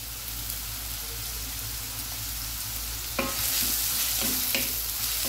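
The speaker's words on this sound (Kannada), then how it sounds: "ಇದು ಹಾಗೆ ಹೈ ಫ್ಲೇಮಲ್ಲೇ ನಾನು ಫ್ರೈ ಮಾಡ್ತೇನೆ" Onion, green chilli, garlic, ginger and cashews frying over a high flame, a steady hiss that swells louder partway through, with a few sharp clicks of a spoon stirring against the pan.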